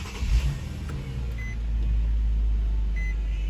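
An Infiniti FX35 starting by push button after repair on a no-ignition-power fault: a brief whir and chime tones, then the engine catches and settles into a steady low idle, close by.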